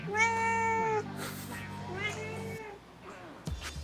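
A domestic cat meows loudly and close by, drawn-out tonal calls in two or three phrases, followed by a brief soft chirp and some light handling noise near the end.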